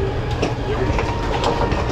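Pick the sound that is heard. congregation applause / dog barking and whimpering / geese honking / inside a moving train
inside a moving train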